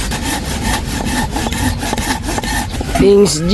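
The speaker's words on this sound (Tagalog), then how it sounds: "Ito ang ating lagari." A hand saw cuts through wood for a boat with steady, rhythmic rasping back-and-forth strokes up close, and a brief voice breaks in near the end.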